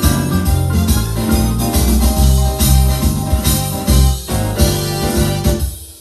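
A piano plays an intro in a minor key, loud and full, with rich low chords and flowing upper notes sounding continuously for about six seconds with no voice.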